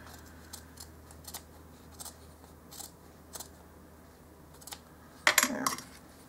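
Scissors trimming small parts for a dollhouse-scale miniature cat condo, a series of faint, close snips spaced about every half second, then a louder clatter near the end.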